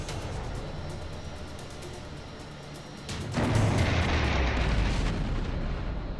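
A missile strikes an F-4 Phantom's target in a Vietnam-era dogfight, a deep rumbling blast that swells abruptly midway and holds as a loud, sustained roar over a steady background rumble.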